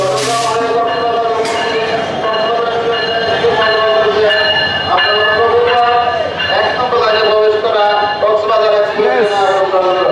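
A passenger train on the Dhaka to Cox's Bazar route pulls into a station platform: loud, close metallic wheel squeals and screeching tones run throughout the clip over a rumbling rolling roar, with crowd voices heard underneath.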